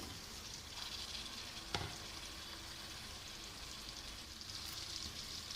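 Chicken fries in hot oil for a Shan Bombay biryani, a dense, even sizzle with a brief clink of a utensil partway through, heard alone and fairly faint.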